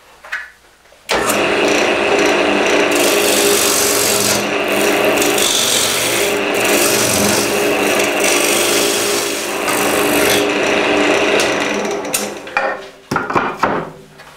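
Wood lathe turning the bottom of a maple bowl held in dovetail chuck jaws, a loud continuous scraping rasp of the tool cutting spinning wood for about ten seconds, then broken taps and scrapes as it stops.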